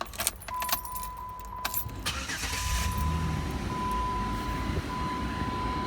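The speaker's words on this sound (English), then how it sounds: "we're gonna go to the car, start it up, leave it running, put the heat on" A Dodge Nitro engine starts after keys jangle nearby, then settles into a steady low idle that runs on without a break, with faint clicks and a thin constant tone over the rumble.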